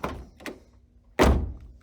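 Door of a 1993 Honda Beat slamming shut with a single solid, loud thunk close by, after a couple of faint lighter knocks.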